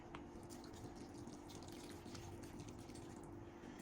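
Homemade broth pours steadily into cornbread dressing, a continuous close liquid splashing and trickling with no breaks and no voices.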